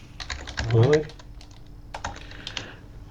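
Computer keyboard keys tapped while a formula is entered into a spreadsheet cell, a quick irregular run of clicks near the mic with a brief spoken word over the start.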